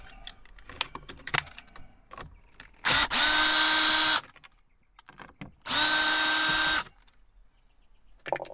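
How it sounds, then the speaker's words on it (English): A power drill backs screws out of interior trim on a 2025 Subaru Forester. Two loud, close bursts of whirring, each about a second long, are separated by small clicks and handling noises. "we're going to get these two screws out"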